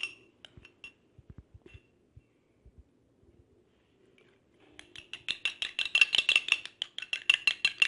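A spoon whisks egg white for a homemade face mask in a small bowl, first with a few scattered light taps, then settling into a fast, steady run of clicking strokes against the side.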